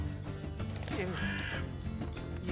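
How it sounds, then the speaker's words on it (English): A bird caws inside the video game Immortals of Aveum, a few harsh calls set against steady game ambience and music that keep the scene busy throughout. "How'd a fucking bird get in here?"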